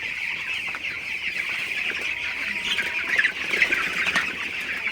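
Broiler chickens on their sixteenth day cluck and murmur steadily in a farm shed at night, a dense, continuous flock chatter with occasional louder squawks toward the end.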